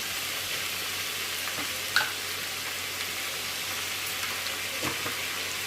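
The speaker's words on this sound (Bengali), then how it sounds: "এবার কেটে রাখা টমেটোগুলো দিয়ে দিলাম। সামান্য একটু নুন দিয়ে নাড়াচাড়া করে নিচ্ছি।" Chopped tomatoes fry in oil with dried chili and five-spice seeds, giving a steady, dense hiss with a couple of faint clicks from stirring.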